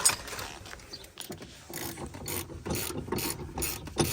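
A ratchet tightens a coilover on a Honda Civic, giving close clicking strokes in quick repeated bursts over a few seconds.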